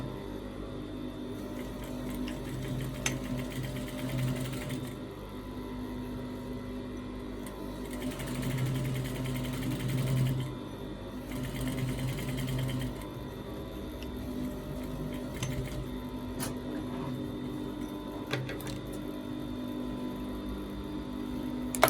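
A sewing machine runs in steady bursts while stitching along the seam line of a trouser back welt pocket to hold it in place, with several short pauses and restarts between runs of stitching, fairly close and alone.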